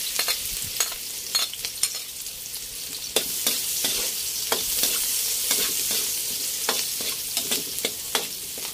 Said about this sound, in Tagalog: Ay magigisa na sibuyas at bawang.